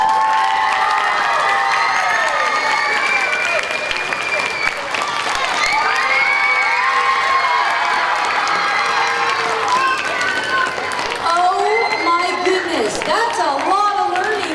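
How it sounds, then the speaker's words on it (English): Young children at an elementary school morning assembly in Ponca City, Oklahoma cheer, shout and clap together, a loud, sustained crowd din with excited voices rising and falling throughout. "Let's give them another big round of applause"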